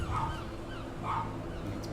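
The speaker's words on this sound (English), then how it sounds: "That's my dog." A pet dog gives two soft, whiny yips about a second apart, faint and somewhat distant over a steady background hum, with no talking.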